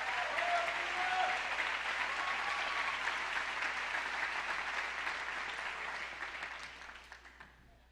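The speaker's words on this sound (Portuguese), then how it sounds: "Aplauda o Senhor pela vida dele." A church congregation claps together in sustained applause, loud and dense at first, then gradually thinning and fading away toward the end.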